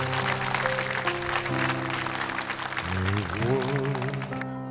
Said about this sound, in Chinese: 掌声有请吴伯雄主席